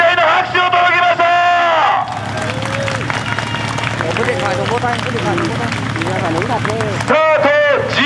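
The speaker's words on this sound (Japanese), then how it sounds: "今から自分との戦いに出るランナーに期待の拍手を届けましょう" Roadside spectators clap for runners about to start the Bando Masakado Half Marathon, with a steady spread of applause and crowd chatter under a loudspeaker announcer's voice that opens and closes the stretch.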